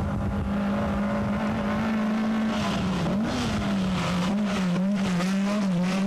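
Loud, close engine drone from a number 8 VAZ 2101 rally car with Weber carburetors and about 130 horsepower at an auto sprint event, its pitch holding steady, then wavering as it revs, with faint tire noise and no talk.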